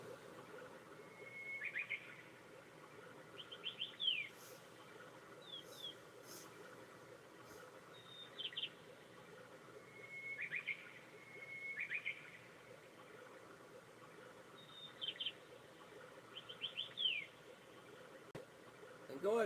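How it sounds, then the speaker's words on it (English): Scattered bird chirps and short calls from a river-and-birds recording played on a projector ring out in bursts over a faint, steady hiss of running water. "river running and the birds in the background on my projector here"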